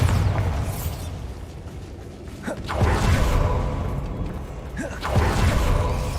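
Blasts from the Bombarda spell in Hogwarts Legacy, two loud explosive bursts a few seconds apart, each with a sharp whooshing onset, over a steady background of game noise.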